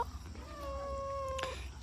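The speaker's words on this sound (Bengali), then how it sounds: "মিয়াও" A house cat called Mini gives a single drawn-out, plaintive meow lasting over a second, close and fairly quiet over a low background hum, with no talking.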